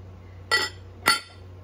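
A large green glass compote dish clinks twice, two bright, sharp ringing taps about half a second apart, close and clear over a quiet low hum.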